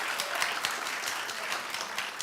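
Studio audience at a daytime talk show claps in a dense, steady burst of applause that fills the whole short stretch, with no voices over it.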